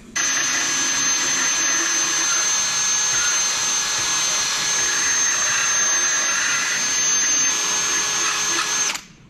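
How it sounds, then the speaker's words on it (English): A carbide bit in a power tool grinds away at an aluminum steering shaft part, enlarging its rounded sides. The whine is loud and steady and lasts about nine seconds before cutting off. "we should be able to enlarge the rounded sides quite easily with that carbide bit and get it to fit."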